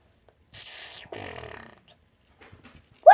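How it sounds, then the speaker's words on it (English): A fart-sound doorbell rings out in a house, two short raspy blurts close together, followed by quiet and a brief sharp noise at the end. "What is up with that fart doorbell?"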